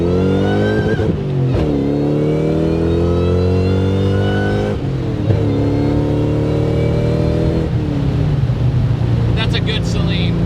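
Saleen S281 Mustang V8 roaring loudly and close as it accelerates hard through several gears, each upshift marked by a brief dip before the engine note climbs again, continuous throughout.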